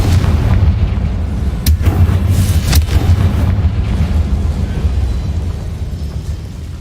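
Explosions from the Confringo spell in the Hogwarts Mystery video game: a loud, continuous booming rumble with a couple of sharp bursts cracking through it.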